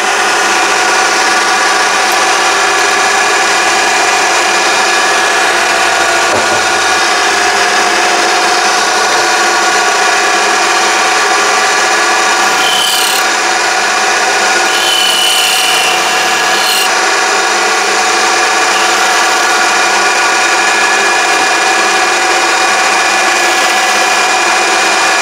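A mini lathe runs on its own with a steady, loud, close whirring and grinding hum, and a few brief scraping or rasping bursts rise partway through, with no talk.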